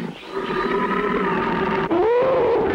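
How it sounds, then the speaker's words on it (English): A cartoon tiger lets out a long, sustained roaring growl that swells and rises in pitch near the end, loud and close with no talking over it. "It didn't take long before The Terrible Tiger appeared."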